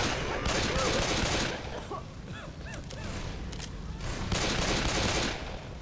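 Rapid gunfire in the zombie shooter Left 4 Dead 2, bursts of shots rattling through the first second and a half and again near the end, with quieter crackling and scattered sounds in between.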